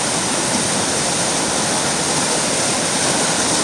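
Class 5/6 river rapids rush in a continuous, loud, broadband roar of churning whitewater, steady and unbroken with no voices.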